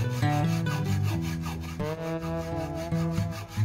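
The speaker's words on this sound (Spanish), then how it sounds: "Con una mano cortamos y con la otra vamos girando poco a poco" A tube being cut by hand with a saw while it is slowly rotated, giving a steady rasping, rubbing stroke sound with a scraping ring, close and continuous without talk.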